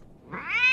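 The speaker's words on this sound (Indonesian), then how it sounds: "melatih auman Simba yang masih mirip suara kucing kejepit" A lion cub's weak attempt at a roar sounds like a squeezed cat: a single rising, nasal meow-like cry that grows louder over under a second.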